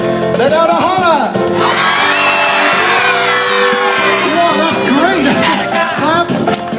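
Children at a school steel drum show let out a loud, sustained holler and whoops together, with brief shouted voices before and after the long group yell.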